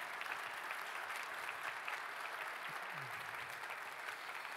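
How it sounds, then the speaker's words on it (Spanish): A church congregation gives a sustained round of applause, a continuous, fairly faint wash of many hands clapping heard from a distance across the sanctuary, with a brief low voice underneath. "dale un aplauso de gloria al Señor."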